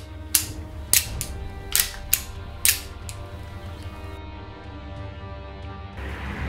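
A KJ Works M9A1 CO2 airsoft pistol, a Beretta replica, is cocked by hand: five crisp metallic slide and hammer clicks in a steady sequence, close and clear, followed by quiet handling.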